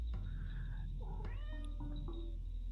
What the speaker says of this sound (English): The cat says, enjoy yourselves.